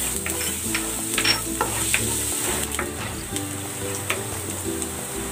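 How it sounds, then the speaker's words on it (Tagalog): Garlic sautés in hot cooking oil for a minced pork dish, a close, continuous crackling sizzle with repeated stirring scrapes and small clinks of a utensil against the pan. "Igisa ko na tong bawang."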